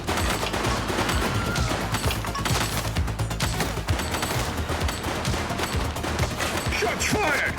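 Sustained loud gunshots and rapid bursts fill a firefight in the police video game The Precinct, continuous and close throughout with heavy impacts.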